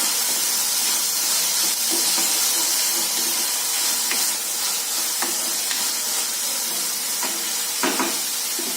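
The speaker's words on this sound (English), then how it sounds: "So we'll add 1 chopped capsicum. Saute for a minute." Chopped capsicum sautéing in a hot pan for a veg grilled sandwich gives a steady, continuous sizzle and hiss, with occasional spatula scrapes and small clicks throughout and no talking.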